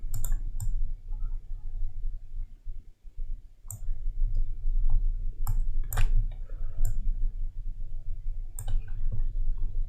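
A computer mouse clicks sharply and sparsely while someone works in CorelDRAW, roughly eight or nine crisp clicks spread irregularly over a low, steady room hum.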